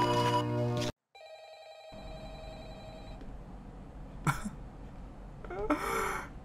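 A telephone rings steadily in the video game Employee of the Month, with a sustained tone over a low background hum. Brief breathy noises and a cough-like sound follow.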